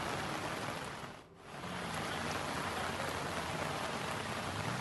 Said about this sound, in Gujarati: એક સાથે વરસાદ વધારે પડી રહ્યો છે